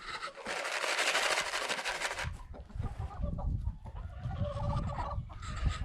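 A backyard flock of well-fed hens clucks and squawks eagerly near a garden, first as a dense loud burst of calls, then as scattered clucks over low rumbling handling noise.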